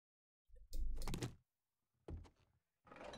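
Door closing in the survival game 7 Days to Die, heard as a close mechanical swing with a thunk, followed by two shorter sliding, clattering bursts.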